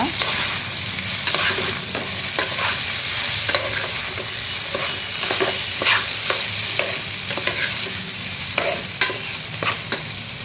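Chitranna rice stirred in a frying pan, a continuous sizzle broken by repeated spatula scrapes and knocks against the metal, steady and close for the whole stretch, with no talking.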